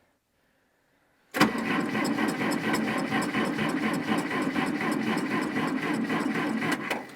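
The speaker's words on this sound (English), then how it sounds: "Let's see if the old 1968 Case 430 will fire up." A 1968 Case 430 tractor engine cranking on a cold start, the starter kicking in abruptly after a second of quiet and then churning in a steady rhythmic grind for several seconds without catching.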